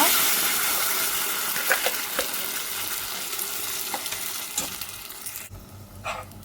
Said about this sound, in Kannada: ಇದನ್ನು ಚೆನ್ನಾಗಿ ಈ ಎಣ್ಣೆಯಲ್ಲಿ ಫ್ರೈ ಮಾಡಿಕೊಳ್ಬೇಕು